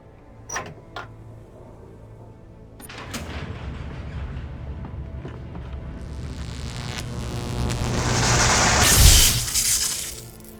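Flashbang grenades going off in the Alan Wake video game: rumbling, crackling noise swells steadily and peaks in a loud, bright, hissing blast near the end, with no voices.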